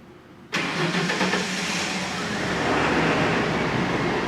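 A car engine starts with a sudden burst after a quiet moment, then settles into a steady, moderately loud running rumble that swells slightly toward the end.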